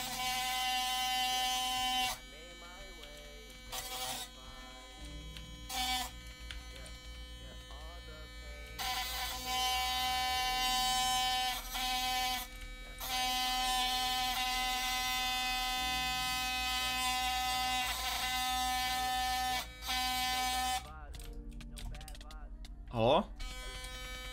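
An electric toothbrush pressed against a mouse to click it while playing Minecraft, giving a loud, steady, harmonic buzz that drones almost continuously with brief gaps.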